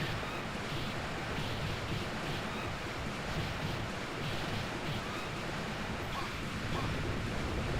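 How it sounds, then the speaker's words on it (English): Loud, steady rushing roar of a waterfall in a video game, a dense broadband wash that fills the whole stretch without a break. "So the waterfall is louder than everything else in existence?"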